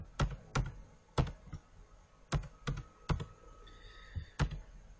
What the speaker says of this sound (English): I will type in all of the symbols